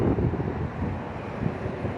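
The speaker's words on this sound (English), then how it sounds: "it is really windy." Strong wind buffets the microphone of a moving TDI-swapped diesel Dodge Dakota, a constant low roaring rumble with gusty swells, loud and close.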